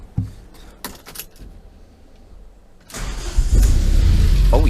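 A turbocharged van engine cranks and fires up on a dyno, a few clicks and clunks giving way to a loud, steady roar that builds and holds close by.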